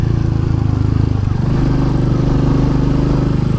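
A motorcycle engine runs steadily and loud while riding along a cold Ladakh highway between Khaltsi and Kargil, a continuous low throbbing drone with wind rush, no talking.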